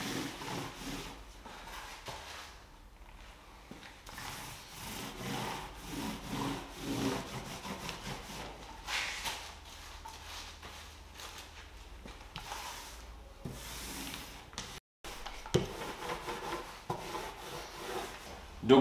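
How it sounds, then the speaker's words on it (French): Golden oak wood stain rolled onto a wooden coffee table top with a lacquer roller: soft, continuous rubbing and rolling strokes on wood, fairly faint, rising and falling in repeated passes with a brief gap. "Je l'applique au rouleau laqueur, ça boit pas mal, donc on n'hésite pas à y revenir."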